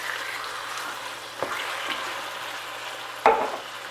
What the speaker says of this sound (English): We're going to saute these for about 5 minutes.